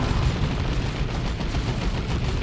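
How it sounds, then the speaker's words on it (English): A big explosion in the strategy video game Dawn of War 2, a dense, sustained rumbling blast with crackling debris that fills the whole moment at close range. "A big old explosion."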